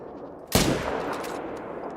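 A rifle shot fired while hunting in Call of the Wild, one sharp, loud close blast followed by a rolling echo that fades under a steady outdoor background.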